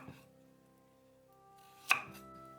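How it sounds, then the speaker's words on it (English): A single crisp knife chop through carrot on a cutting board, quiet and close, with faint background hum before and after. "cut into pieces 300 grams of carrots"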